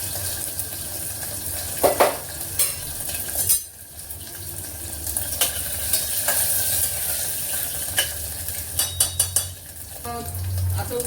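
Ingredients dropped into hot oil in a pan as a Marathi home cook prepares brinjal and dried bombil fish curry, with a continuous sizzle, intermittent metallic stirring clinks and utensil scrapes, close and fairly loud.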